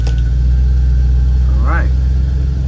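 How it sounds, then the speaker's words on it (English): A 1962 Chevrolet Nova convertible fitted with electronic fuel injection starts from cold, heard as a loud, close engine rumble with a brief rising whine as it catches, set against a steady drone. "And then we'll crank the car over."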